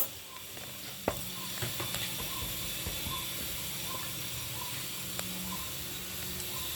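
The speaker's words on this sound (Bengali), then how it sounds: "গুঁড়ো করা গরম মশলা আমি এখানে দিয়ে ভেজে নেব।" Ground garam masala fries in white oil for a braised meat dish, a steady close sizzle with occasional stirring clinks and scrapes, no voices.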